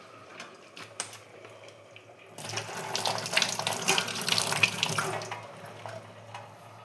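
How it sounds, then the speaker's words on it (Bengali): Tap water runs into a sink while dishes are washed, a soft trickle at first, then a fuller steady splashing gush, close and fairly quiet, with no voices. "থালাগুলোও ধুতে হবে।"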